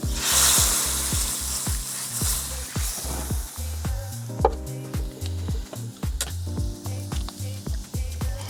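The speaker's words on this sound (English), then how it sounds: "So we've got the paella on now, and we're starting to get a really slow bubble" Paella with rice cooking in a wide pan over an open wood fire, a soft, continuous sizzle with slow, irregular bubbling pops and faint crackle, no talking.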